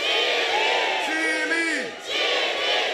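A large crowd at a political party congress rally roars and shouts a chant together, loud and close, with a rising and falling collective bellow over a dense background of voices.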